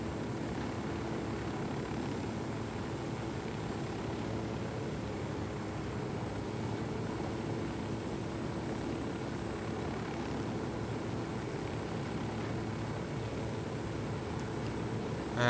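Steady, droning rotor and engine hum of a helicopter in the Ghost Recon video game, continuous and even in volume throughout with no talk over it.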